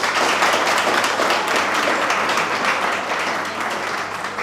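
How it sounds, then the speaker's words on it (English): A room of workshop participants clapping together in a sustained burst of applause, dense and fairly loud throughout, slowly tapering toward the end with no talk over it. "Now, guys, can we just clap for all of us?"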